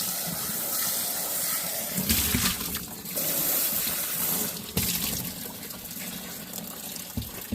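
Tap water runs and splashes steadily while rinsing out a rock tumbler barrel after the polish phase for agates. The flow surges and gushes in a few places, and no one speaks.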